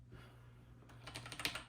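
Fingers type on an Atari Mega ST mechanical keyboard fitted with Cherry switches. Soft taps at first build into a quick run of crisp, close clacks over a steady low hum.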